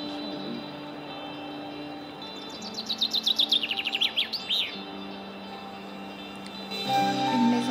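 A brambling sings outdoors, a clear run of rapid, sweeping chirps in the middle of the passage over a quiet background hum. A louder rustle or noise comes in near the end.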